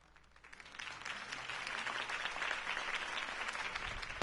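Applause from a crowd in a Batman video game builds over the first second and then holds steady as a dense, continuous wash of clapping, with no voices on top.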